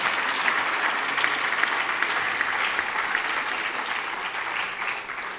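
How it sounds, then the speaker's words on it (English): Steady, sustained audience applause at a Bharatanatyam arangetram in Birmingham, UK, a dense even wash of many hands clapping that fades slightly at the end. "A big round of applause for Anaya, who's missing at the moment"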